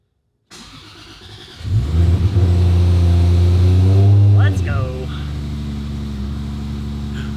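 A fully built 2JZ engine in a Toyota Supra MKIV cranks and fires up loud and close, revs high, then settles into a steady rumbling idle, with brief talk over it.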